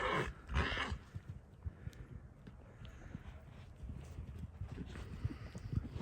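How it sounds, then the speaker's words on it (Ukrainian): Hooves of a Romanian mare and her foal clip-clop as they run, an uneven patter of soft thuds at moderate distance over outdoor background noise, with a brief louder rustle near the start. "Румунська кобилка. То її жеребчик."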